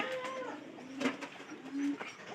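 Domestic pigeons coo softly up close while feeding their chicks, giving a few low, throaty murmurs in short bursts over a quiet background.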